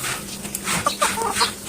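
Chickens clucking close by as they are fed rice in the morning, a short burst of several soft, irregular clucks alone.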